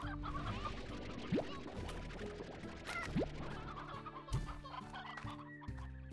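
Chickens clucking in the video game Slime Rancher, a flurry of repeated clucks and squawks layered over bright in-game music and chimes, with no talking.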